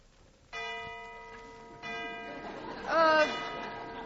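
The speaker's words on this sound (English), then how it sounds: "There's the last bell." A school bell rings in a long sustained tone, sounding twice with a brief break, with a rising voice cry over the end. The setting is an old radio musical broadcast.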